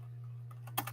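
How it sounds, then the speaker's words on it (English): A short burst of laptop keyboard typing, a few quick close clicks over a faint steady electrical hum. "I just typed NASA firms."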